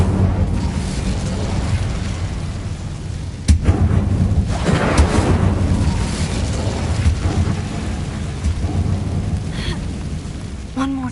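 An Incendio fire spell bursts in the Hogwarts video game with a sharp blast partway through, followed by a roaring, crackling rumble that stays loud, layered over music and game ambience with a brief voice.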